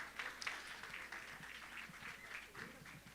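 Audience applause for a distinguished panel at a conference on democracy, a steady patter of clapping from a seated crowd at moderate volume, with some voices mixed in.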